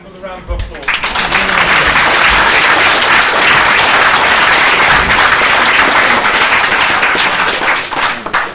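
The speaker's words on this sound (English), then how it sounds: "Another round of applause." An audience at a live performance event applauds a performer, loud dense clapping rising quickly after a brief voice and holding steady for several seconds before tapering.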